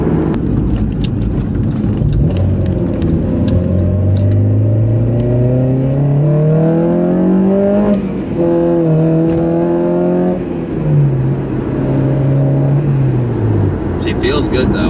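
A 2002 Acura RSX Type-S four-cylinder engine with its idle air control valve deleted, heard from inside as it revs and pulls through rising gears, loud and droning, with a brief lift between shifts.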